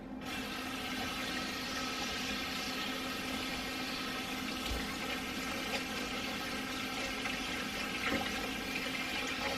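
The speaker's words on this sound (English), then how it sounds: "I'm going to rinse that off." Water runs steadily from a kitchen tap while something is rinsed off, a constant close hiss and splash with no talking.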